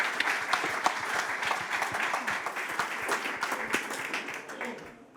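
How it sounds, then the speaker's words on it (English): Sustained audience applause, dense and steady clapping from a crowd, close and fairly loud, tapering slightly at the end. "give her a very warm applause,"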